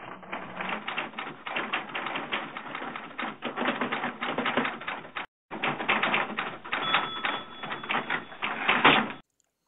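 A big old Underwood manual typewriter types in rapid, loud, continuous keystroke clatter that stops briefly about halfway, then resumes and runs on. Nobody speaks.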